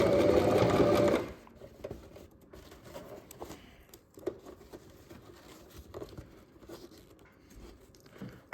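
A sewing machine stitches yacht cushion covers in a short, loud burst of rapid needle clatter, then stops, leaving quiet handling rustles and faint taps.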